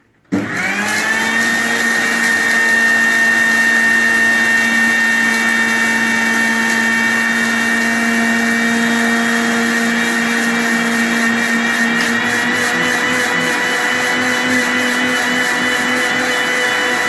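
An electric grinder grinds biryani masala spices, starting abruptly and holding a loud, steady, high whine with a constant motor hum for the whole stretch.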